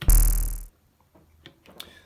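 A loud, bright modular synthesizer zap with a high sweeping tone that cuts off abruptly, followed by a few faint clicks and blips.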